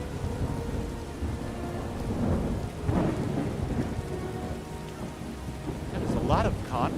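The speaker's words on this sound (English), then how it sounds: "Why does it have to be raining? Rain. Skyrim weather at its finest." Steady rain pours throughout with low rolling rumbles of thunder in the video game Skyrim, and a voice briefly murmurs near the end.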